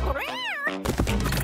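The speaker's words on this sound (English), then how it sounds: "It's a cute little kitty cat." A cartoon cat in a Digital Circus video game gives a single clear, drawn-out meow up close, followed by a burst of louder busy game sound.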